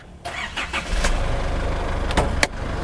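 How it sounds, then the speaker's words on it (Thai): A used 2014 Isuzu MU-X 3.0 with automatic transmission fires up: a short burst of starter cranking, then the engine catches and settles into a steady, close idle rumble. "ขออนุญาตสตาร์ทเลยแล้วกันนะครับ"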